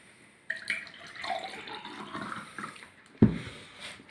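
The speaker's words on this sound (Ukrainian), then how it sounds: "Давайте зап'ємо компотом. Наливаємо." Compote is poured into a cup with a trickling, gurgling splash, ending in a short clunk as the container is set down.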